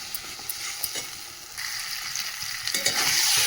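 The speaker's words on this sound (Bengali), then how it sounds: "নিয়ে আলুটাও কষিয়ে নিলাম মশলার সাথে" Boiled potatoes being stirred and sautéed with spice paste in a pan, a close steady sizzle with scraping and stirring clatter that grows louder toward the end.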